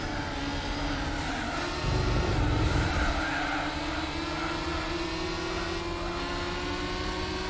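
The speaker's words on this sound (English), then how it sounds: "Listen to the sound of that engine." A car engine in Gran Turismo 4, a Spider convertible, droning steadily at close range with rising harmonic pitch as it accelerates, plus a brief louder surge partway through.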